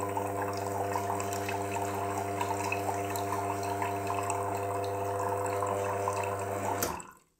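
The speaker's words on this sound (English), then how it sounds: "It's definitely drawing the water out of the jug," A Wega espresso machine's pump hums steadily as it draws water from a jug, a constant mechanical drone with a faint watery trickle that runs for about seven seconds, then cuts off abruptly into near silence.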